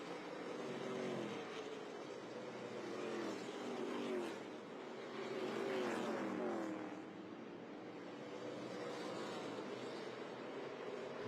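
ARCA Menards Series West stock cars racing at Irwindale, a steady engine roar with rising and falling pitch as cars pass through the turns, swelling and fading, heard at a distance without talk over it.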